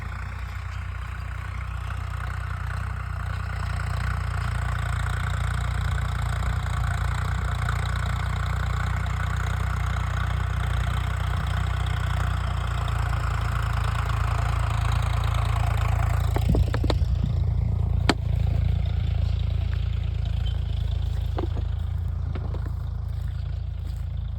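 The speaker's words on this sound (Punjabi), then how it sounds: "ਉਹ ਦੇਖੋ ਬਾਪੂ ਆਈ ਜਾਂਦਾ ਟਰੈਕਟਰ" A Swaraj tractor engine runs in a steady, close, low rumble for most of the stretch, then abruptly drops off and leaves a few sharp clicks and knocks behind. Nobody speaks.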